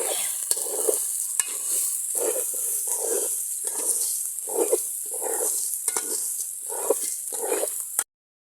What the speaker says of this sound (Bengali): আলু দিয়ে লাড়তাছে